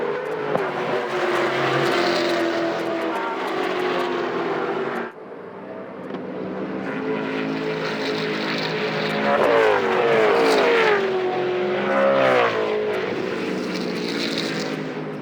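V8 touring race cars at a Phillip Island championship race in 2000 roar past with loud, droning engine notes that rise and fall as they accelerate and shift, with commentary-free trackside engine noise throughout.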